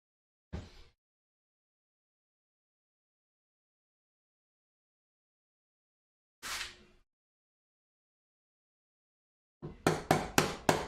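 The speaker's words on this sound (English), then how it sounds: "I'm hitting you with a hammer" Sharp, isolated hammer strikes on wood in a shadow box project: a single knock, a long pause, another knock, then a quick run of four or five taps close by.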